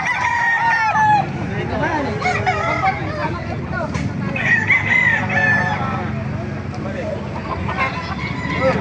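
Roosters crow repeatedly at a chicken market in Baliuag, loud and near, overlapping with clucking, crowd babble and people talking nearby.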